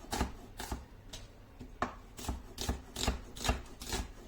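Onions chopped with a knife on a board, a series of about ten crisp thuds in an uneven rhythm, close and moderately loud with no talking.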